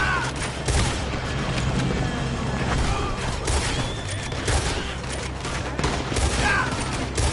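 Dense, continuous gunfire rings out in the video game Red Dead Redemption 2, a sustained barrage of overlapping shots at loud, even level without pauses.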